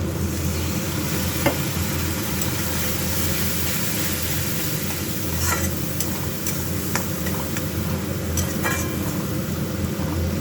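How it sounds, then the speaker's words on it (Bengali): Fish curry spices stir-fried with salt in a pan, a steady loud sizzle with scraping stirs throughout, no voices. "এগুলো দিয়ে নুন দেবো একটু, দিয়ে কষিয়ে জল দিয়ে দেবো।"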